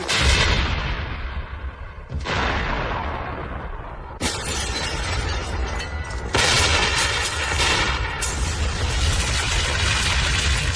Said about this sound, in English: Yes, and a giant explosion.